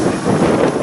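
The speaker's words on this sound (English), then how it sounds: "Yep, that's how windy it is here." Loud, rough buffeting of strong wind hitting the microphone beside a railway in Fremont, Nebraska, a dense roar with no pauses.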